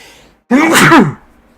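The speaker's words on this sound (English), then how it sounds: "Suddenly sneeze." A single loud, close sneeze bursts out after a brief pause, then quiet.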